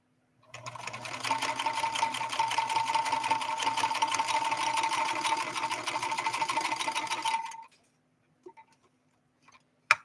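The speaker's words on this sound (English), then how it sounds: "If you hear like a jiggly sound, that's the bobbin jiggling." A 1970s Kenmore 158.13520 sewing machine stitches at about 12 stitches per inch, giving a fast, even mechanical chatter with a light jiggle from the bobbin. It runs close and alone for about seven seconds, then stops, followed by a few faint clicks.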